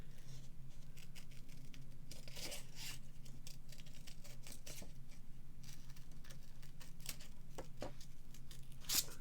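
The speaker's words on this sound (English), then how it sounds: "Just let you move the paper and just chomp the scissors." Scissors snipping patterned paper for a stamped card, a run of faint, quiet crisp cuts and rustles close by with no talking.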